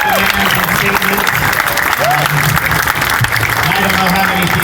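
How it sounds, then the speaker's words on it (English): Crowd applause at a protest outside City Hall, steady clapping and cheering from many people, mixed with voices and brief whistles throughout. "another round of applause"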